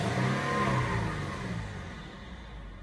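A 2014 Mercedes ML350 engine catches and settles, starting with a brief rising whirr, then a smooth running rumble that fades slightly, close by with no voices.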